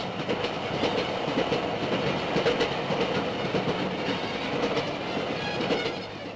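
The Flying Scotsman, a steam-hauled express with a restored dining car, runs at about 60 mph, giving a steady, loud rumble of rolling carriages with clickety-clack from the wheels on the rails throughout, with no voices.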